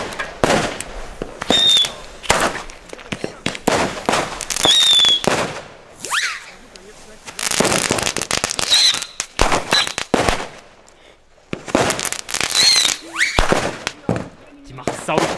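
New Year's Eve fireworks and firecrackers set off on the street, with loud bursts of rapid crackling and popping volleys separated by short quiet gaps, whistles and people talking between the blasts.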